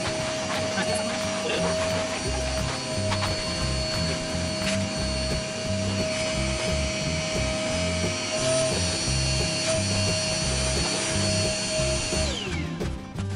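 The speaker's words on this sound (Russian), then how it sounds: "Так, пылесосим дальше." A vacuum cleaner runs continuously while a room is cleaned behind a Christmas tree, a loud steady motor drone with shifting suction as the nozzle moves, winding down near the end.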